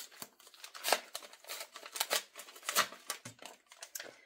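Crisp rustling and tearing of a mail-order package from Adelcha being opened by hand: paper and cardboard crackling in short irregular bursts, close and fairly quiet, with no voices.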